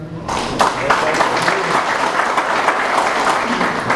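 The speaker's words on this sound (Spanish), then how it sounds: "pido un aplauso para él" An audience at a union-backed public address bursts into applause after a short pause, brisk crowded clapping that stays loud and steady, with a voice faintly speaking underneath.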